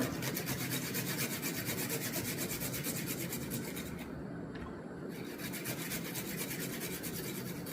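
Garlic crushed and chopped on a cutting board, with a steady, rapid rasping and scraping rhythm that continues throughout, close and fairly quiet, with a brief lull in the middle.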